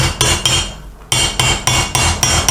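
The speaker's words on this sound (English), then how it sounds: "then I put my socket over the top and take a hammer and try to drive" Sharp metallic hammer blows on a socket driving a swing arm bearing into a 1983 BMW R80ST motorcycle, about six loud, evenly spaced strikes with a brief pause between the first two, each ringing then fading.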